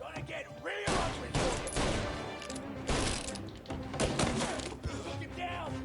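Rapid gunfire from a shootout in Mafia: Definitive Edition bursts loud and close in repeated volleys, with shouting voices in between.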